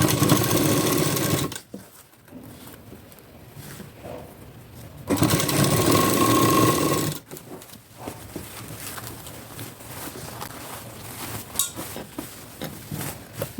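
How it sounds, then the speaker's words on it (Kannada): Sewing machine stitching a blouse in two loud, steady runs, the first about a second and a half and the second around two seconds, with quieter handling of the fabric and machine between and after them. "ಆಮೇಲೆ ತಿರುಗಿಸ್ಕೊಂಡು"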